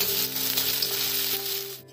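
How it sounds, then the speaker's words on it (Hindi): Onion sizzles and fries in a pan along with ginger, green chili and garlic paste for a cabbage kofta curry, a close, steady crackling hiss over about two seconds. "यहाँ पर अदरक हरी मिर्च और लहसुन का पेस्ट है, इसको हम डाल देंगे। डाल करके अच्छी तरह से भूनेंगे"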